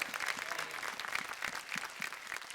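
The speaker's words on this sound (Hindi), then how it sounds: "अरे वाह, तो एक बार जोरदार तालियां बजनी चाहिए इस बात पे।" Studio audience applause on a televised folk music competition show, steady dense clapping throughout without a break, fairly full and close, with no speech over it.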